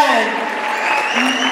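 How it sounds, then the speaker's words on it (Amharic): Warm applause for the top 10 contestants at the Miss International Ethiopia 2024 beauty pageant rolls on steadily beneath an announcer's voice and tonal music. "Standing, ሞቅ ባለ ጭብጨባ our top"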